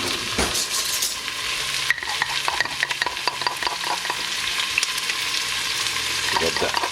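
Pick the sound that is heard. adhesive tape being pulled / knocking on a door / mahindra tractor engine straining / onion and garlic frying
onion and garlic frying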